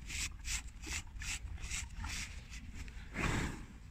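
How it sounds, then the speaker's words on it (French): A brush sweeps dirt off a horse's coat in quick, rhythmic strokes up close, about two or three per second, with a fuller rustle or soft snort-like burst near the end and no talk. "Il a une grosse plaque là que je suis en train de brosser du coup pour enlever la terre qu'il a mis dessus."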